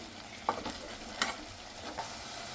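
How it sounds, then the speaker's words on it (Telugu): Spice paste fries in a pan for a rice dish, with a soft, even sizzle and a few crisp pops and stirring scrapes close by, moderately quiet, with no voices. "మనం ప్రిపేర్ చేసుకున్న ఈ పేస్ట్ పచ్చివాసన పోయే వరకు ఫ్రై చేసుకోవాలి"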